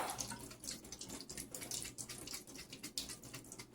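Liquid from an opened can drains into a kitchen sink during Thanksgiving turkey dinner cooking, a steady faint trickle and splash that runs continuously with small fluctuations.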